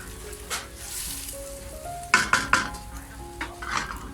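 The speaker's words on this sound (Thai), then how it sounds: "จากนั้นนะคะเราก็จะผัดจนกว่าไข่จะสุกแห้งขึ้นมาหน่อยหนึ่งนะคะ" Egg and shrimp stir-fried in a pan over a gentle sizzle, with a utensil scraping and clacking against the metal in several sharp bursts, close and without any talk.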